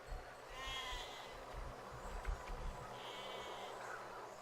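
Sheep in the Besiege video game bleating twice, faint wavering cries over a low rumbling game background.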